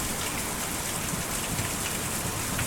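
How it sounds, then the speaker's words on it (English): Steady rain falling in the video game Kentucky Route Zero, a dense, continuous hiss of drops with no breaks and no voices. "The old man had stumbled in the rain"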